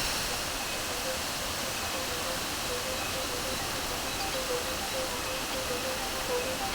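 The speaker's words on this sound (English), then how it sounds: "This is probably the most beautiful waterfall I've ever seen." Waterfall in Bali roars as a steady, dense wash of broadband rushing water, loud and constant from start to finish.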